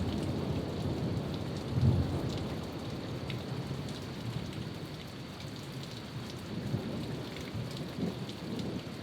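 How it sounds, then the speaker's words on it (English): Heavy rain falling steadily over a garden during a thunderstorm, a dense, close hiss with a low rumble of thunder swelling briefly, no voices. "We had a pretty big storm that came through last night."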